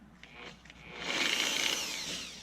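A Griot's Garage G9 polisher is switched on at its lowest speed, a soft click and brief handling noise before a rising whirring hum that settles into a steady, close motor drone.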